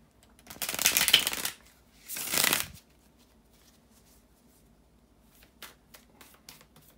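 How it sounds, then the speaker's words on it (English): A deck of tarot cards being shuffled by hand, with two quick riffling bursts close up, followed by a few soft taps and card handling in a quiet room. "to shuffle the tarot cards"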